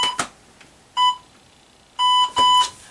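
Short synth tones from a Korg RK-100s keytar: a brief blip, then three sustained bright electronic notes about a second apart, the last pair close together, clear and alone.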